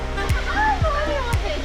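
A waterfall in Bicol, Philippines pours with a steady broadband rush while a person speaks close by over it.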